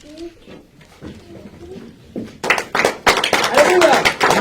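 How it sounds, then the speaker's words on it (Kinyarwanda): A church congregation breaks into applause to welcome its pastor, the clapping rising loud and dense after a stretch of talk and continuing to the end. "duhe Imana amashyi twakire pasiteri wacu"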